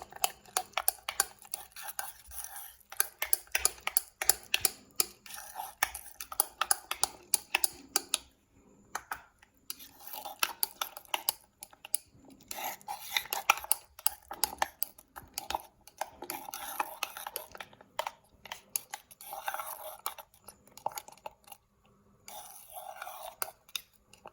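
Preservative is stirred by hand into homemade organic body lotion, producing soft rapid scraping and tapping of a utensil against a container, quiet and close, with brief pauses.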